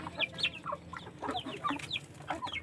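Backyard chickens clucking busily at feeding time, a dense overlapping run of short, close, mid-pitched clucks and squawks with no pause.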